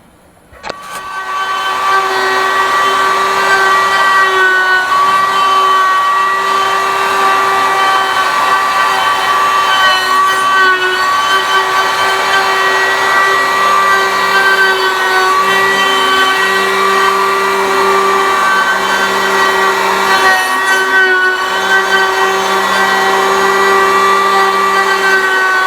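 A power tool surfaces a wooden table top with a steady, loud, close whine and tonal hum that runs continuously for the whole stretch, alone without any talking.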